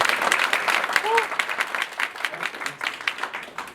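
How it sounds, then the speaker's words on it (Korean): An indoor corporate audience at a business-manners lecture claps to welcome a speaker, a moderate crowd of hands with scattered louder claps and a voice briefly heard over it. "큰 박수로 대표님을 맞아주시기 바랍니다"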